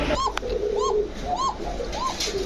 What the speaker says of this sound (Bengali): এই টাইপের তো অনেক কবুতর পাবেন আজকে হৃদয় ভাইয়ের কাছ থেকে